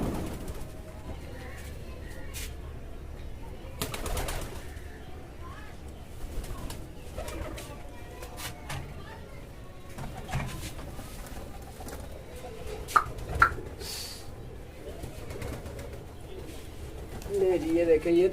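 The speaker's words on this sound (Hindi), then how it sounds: "मेरे फिर कबूतर उड़ गए हैं साथ में" Pigeons coo softly nearby while wings flap as birds take off, with muffled rustling and a few sharp knocks over steady background noise; someone talks intermittently.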